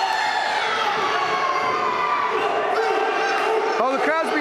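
A wrestling crowd cheers for Caveman Chad at an Elite Wrestling show, a steady roar of shouting and cheering voices that holds throughout, ending in a few rising whoops.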